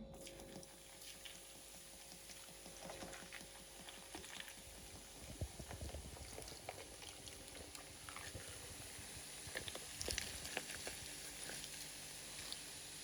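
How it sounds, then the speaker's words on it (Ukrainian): Dark beer poured over pork knuckle in a pot, a faint bubbling, gurgling liquid stream with soft splashes that builds slightly toward the end, with no talking. "І заливаємо це все дело пивасиком темным."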